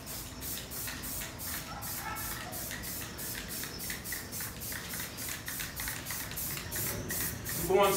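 Short repeated bursts of aerosol spray paint on Pandem widebody kit pieces for a BMW E36 M3, hissing in a steady rhythm, close by, ending with a slightly louder spurt.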